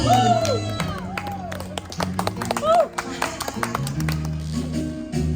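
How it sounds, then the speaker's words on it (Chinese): A small audience at a live singing performance gives scattered, uneven clapping under loud talk and voices, with sharp hand claps popping out through the chatter. "掌声鼓励你"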